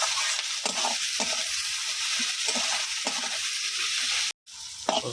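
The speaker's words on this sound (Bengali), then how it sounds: "দিয়ে দিলাম হচ্ছে লবণ, এখন ভালো করে একটু নাড়াচাড়া করে নেব।" Salted food stirred in a frying pan, a steady sizzle with a utensil scraping and turning it every half second or so, close and even throughout, with a brief drop-out near the end.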